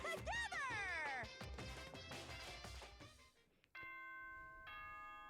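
A Danganronpa video game announcement chime rings out as a few sustained bell-like tones in the last second and a half, following a loud stretch of layered game music.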